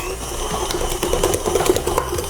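A stand mixer works breadstick dough with a dough hook, giving a steady mechanical whir with rhythmic knocking and thumps as the dough slaps around the bowl, close and alone.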